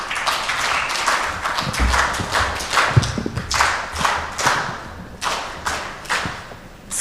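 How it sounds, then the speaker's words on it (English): Audience applause fills the hall at the East African Civil Society Summit 2025 plenary, a dense run of many hands clapping with scattered louder thumps, steady and fairly close, with no talk over it. "Okay, you can clap for us."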